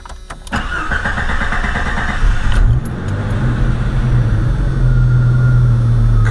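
A Jeep Cherokee engine is restarted after a throttle body modification for a fast high idle. It cranks briefly, fires, and holds a loud, steady idle hum up close.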